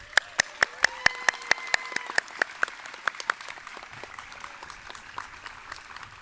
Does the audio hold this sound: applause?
yes